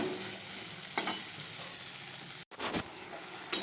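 Prawns frying in oil with potato and pointed gourd, a steady close sizzle with stirring scrapes and a couple of sharp utensil knocks.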